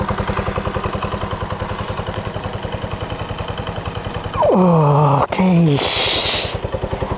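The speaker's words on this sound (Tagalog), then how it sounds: "Okay lang pa rin yung makina." A motorcycle engine idling with a fast, regular putter that fills most of the clip, briefly interrupted by a rising-then-falling tonal sweep and noise near the end before the engine returns; a short spoken word is heard.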